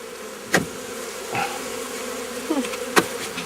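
Honeybees buzz steadily around an open hive during an early-spring inspection, the drone close and continuous, with a few louder passes as individual bees fly near.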